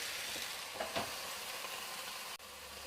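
Potato and sweet potato fries cook on an All Clad XL grill with a soft, continuous sizzle and faint crackles, quiet and steady throughout.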